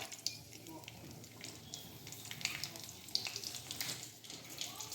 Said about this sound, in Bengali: তেল গরম হয়ে গেছে, আমি এবার তেজপাতাগুলো দিয়ে দিচ্ছি, কাঁচা লঙ্কাগুলো দিয়ে দিলাম